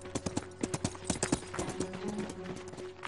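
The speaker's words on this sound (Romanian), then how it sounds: "Care nu îl împiedică să se plimbe în voie cu un cal furat." Horse hooves clip-clop in a video game, a quick run of sharp, evenly spaced knocks up front that blur into a denser trot later, alone and moderately quiet.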